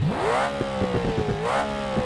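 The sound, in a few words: modified 1971 Dodge Charger exhaust revving in BeamNG video game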